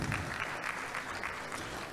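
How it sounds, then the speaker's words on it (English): A quiet, steady patter of audience applause at a lecture for a quantity surveyors' annual event in Lagos, heard briefly and somewhat distant as a continuous wash of clapping. "Let's give a resounding round of applause,"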